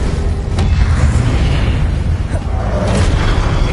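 A fire spell blasts out in the Hogwarts Legacy video game, a loud, dense burst of booming, roaring energy that stays steady for several seconds, with a few brief sharper cracks layered in.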